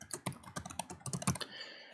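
An email address is typed quickly on a computer keyboard, a close, rapid run of crisp key clicks for about a second and a half before stopping, with no speech.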